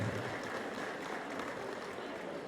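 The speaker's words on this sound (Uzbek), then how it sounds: "Mana shunday olqishlar sadosi ostida davramizni ramziy eshiklarni ochiq deya e'lon qilamiz." Steady crowd applause fills a wedding hall in Bukhara, greeting the bride and groom, with a voice speaking over the clapping.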